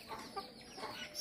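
Soft, scattered clucking from a chicken amid steady outdoor background noise, faint and fairly distant.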